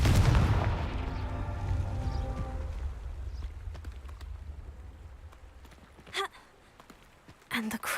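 A Confringo fire spell blasts in the Hogwarts Legacy video game with a loud, deep boom that fades over a few seconds, followed by a couple of short sharp game sounds.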